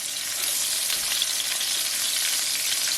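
Pork chops sear in a hot pan with a constant, bright, crackling sizzle that stays even and close throughout, with no voices.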